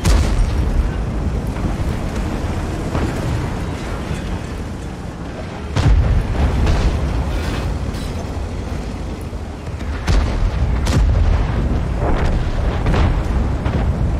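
Heavy tank cannon shots in World of Tanks, two big booming blasts with sharp onsets standing out over a dense, rumbling battle bed of distant gunfire and engine noise.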